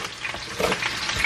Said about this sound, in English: And you let them fry.